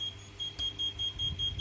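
A buzzer on an IoT water-level monitor beeps rapidly at full level, a faint, even train of short high tones repeating roughly every fifth of a second over a low background hum.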